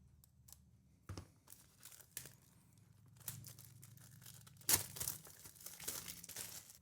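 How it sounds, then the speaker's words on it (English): Cellophane wrapping is torn and crinkled off a red dot sight box, with close, irregular crackling bursts and one louder rip partway through. "let's go ahead and get the cellophane wrapping off of there"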